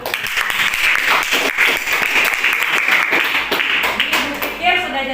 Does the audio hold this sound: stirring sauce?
no